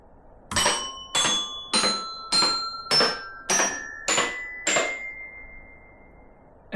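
A bell, part of a caroling conifer, is struck eight times in an even rhythm, each hit ringing bright and metallic before the next, with the final strike left to hum out alone.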